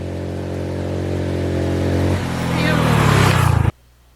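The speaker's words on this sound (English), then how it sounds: "I've been driving for a while now" Car driving along the coastal road around Cozumel island, Mexico: a steady engine drone with harmonic hum that rises as it accelerates, louder and rougher toward the end before cutting off abruptly.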